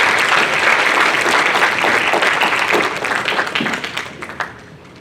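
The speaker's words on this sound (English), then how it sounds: "Can we give them a round of applause?" An audience at a student presentation and awards event breaks into loud, dense applause that holds steady, then thins out into scattered claps and fades toward the end.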